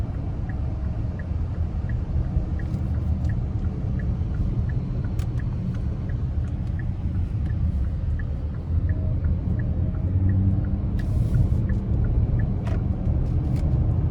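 A 2023 Hyundai Palisade Limited with its 3.8-liter V6 and 8-speed automatic, heard from inside while driving: a steady low engine and road rumble throughout, with a faint repeating tick riding over it and no talking.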